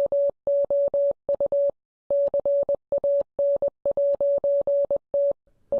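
Morse code beeps: a steady pure tone keyed in short and long bursts with brief gaps, loud and clean, forming a continuous sequence with no other sound.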